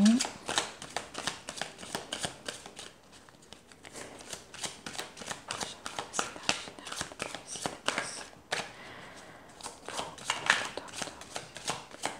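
A tarot or oracle deck being shuffled by hand before a card is drawn, a rapid run of close papery riffles and flicks that pauses briefly mid-way, with a voice talking over it.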